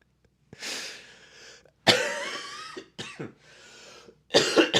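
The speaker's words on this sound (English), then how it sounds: "Oh, this cough, man." Several harsh, rasping coughs come close to the microphone in separate bursts, with brief pauses between.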